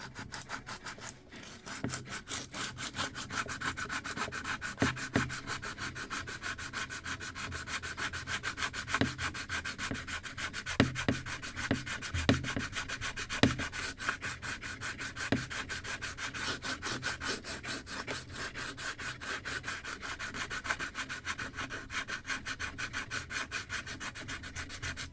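Steady abrasive rubbing of a Scotch-Brite scuff pad across a wooden Muscongus Bay lobster smack model hull, a continuous close scratchy hiss with a few brief louder strokes, no talking.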